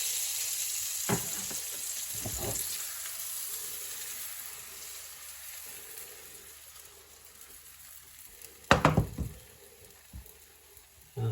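Pancake batter frying in a pan with margarine, heard as a steady close sizzle with a few clattering knocks of utensils against the pan, brief and loudest near the end.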